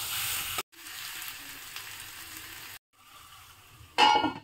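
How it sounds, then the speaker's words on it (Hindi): Chopped pumpkin sizzles as it is roasted with spices in a hot pan for a Bihari-style curry, a steady close frying hiss broken by brief silent cuts and a louder flare of sizzling near the end. "अब मैं इसमें इस कदीमा को डाल दे रही हूँ, इसे भी मैं अच्छी तरह से भूंज लूंगी।"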